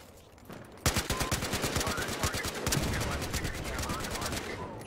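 Rapid automatic gunfire from the Battlefield: Hardline shooter game hammers out in a long, evenly spaced string of loud shots, with a voice faintly present underneath.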